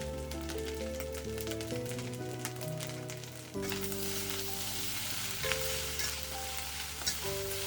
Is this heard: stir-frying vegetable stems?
yes